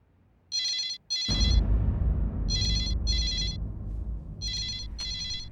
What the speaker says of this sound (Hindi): आपके लिए फोन आया